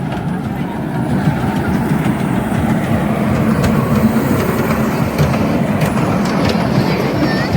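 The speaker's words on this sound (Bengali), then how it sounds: "তারপরে এই যে বাচ্চাদের ট্রেন ছোটা ভীম।" A children's Chhota Bheem ride train rumbles and rattles along its track at a Durga Puja fair, a loud, continuous clattering drone with faint crowd noise around it.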